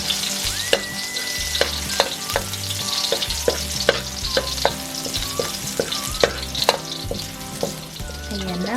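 Garlic sizzles and browns in a hot pan for a pineapple beef dish, a loud continuous frying hiss punctuated by regular clacks of a spatula stirring against the pan.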